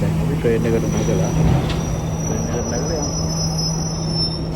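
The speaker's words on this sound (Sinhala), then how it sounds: "දැන් අපි ට්‍රේන් එකට නැගලා" A train rolling through Colombo Fort railway station before dawn, a continuous low rumble with a steady tonal hum and a faint high wheel whine, close by, with a person speaking over it.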